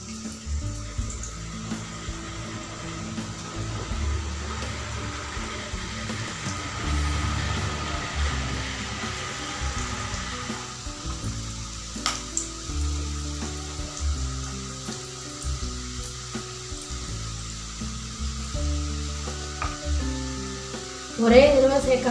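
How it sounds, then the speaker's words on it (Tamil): Masala peanuts deep-fry in hot oil with a steady bubbling sizzle, accompanied by low clattering and stirring from the pan, with a brief louder burst near the end. "ஒரே தடவை சேர்க்காம ஒரு 2 தடவை அது மாதிரி போட்டு பொரிச்சு எடுத்துக்கோங்க"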